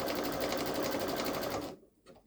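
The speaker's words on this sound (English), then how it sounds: "So I'm just going to keep sewing the satin stitch across." A Babylock Solaris sewing machine runs steadily while sewing a satin stitch, a fast continuous whirring hum that stops abruptly near the end, leaving brief quiet handling noise.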